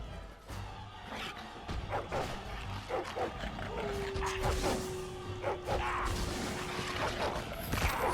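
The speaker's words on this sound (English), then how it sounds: "Wolves? Or, no, dogs." Dogs barking and yipping in the fantasy game Dragon Age: Origins during a village siege, sharp repeated barks over a busy, noisy battle bed with clattering effects.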